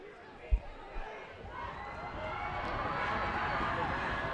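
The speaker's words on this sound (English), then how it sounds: "and the crowd's getting into it" A high school football crowd cheers and roars from the stands, swelling from a couple of thumps into a steady, broad wash of voices that builds and holds toward the end.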